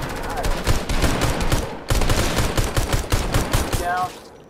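Rapid bursts of automatic gunfire from a Fortnite match rattle on loud and close in dense volleys, broken by a brief pause before the shooting resumes and then tails off.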